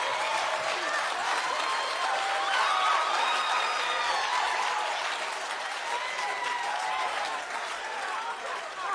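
Studio audience applauding steadily and loudly for the whole stretch, a dense wash of many hands clapping at once with faint crowd voices mixed in, no speech over it.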